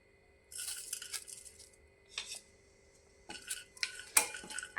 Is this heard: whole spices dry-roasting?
yes